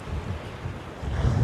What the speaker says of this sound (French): je sais pas si tu m'entends parce qu'il y a beaucoup de vent ici